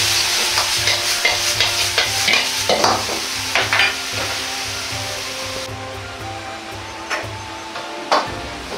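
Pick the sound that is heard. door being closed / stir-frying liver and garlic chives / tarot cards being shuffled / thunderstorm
stir-frying liver and garlic chives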